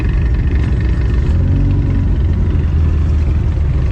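A modified car engine idles with a deep, steady low rumble and a faint mid-range throb, close and continuous, with no talk.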